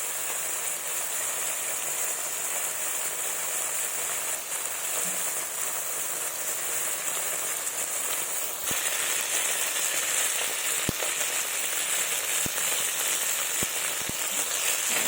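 Spices with salt and turmeric fry in hot oil for a Bengali fish and boiled-potato dish, giving a loud, steady, rain-like sizzle with no talk and a few faint clicks toward the end.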